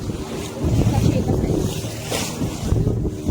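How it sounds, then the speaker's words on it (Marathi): Waves surge and slosh against a rocking boat on the sea at Devbag beach under steady wind rumble, with a louder splash near the middle. "लाटा इतक्या उसळत आहे की बोट पूर्ण हालू राहिली."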